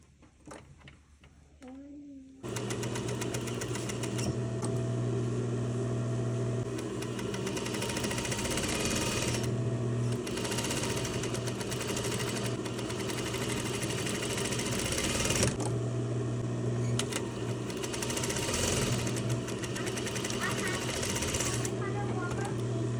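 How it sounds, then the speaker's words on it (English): A sewing machine runs fast and steadily, a loud close mechanical whir with brief pauses between stitching runs. "You don't need a sewing machine for this, but it will help."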